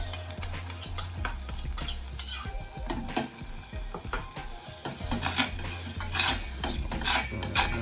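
A spoon scraping ketchup out of a container while making oven-baked jerk chicken wings, with repeated close scrapes and clinks against the sides, fairly quiet and with no talking.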